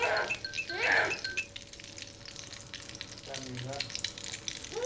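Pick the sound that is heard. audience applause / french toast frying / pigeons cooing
french toast frying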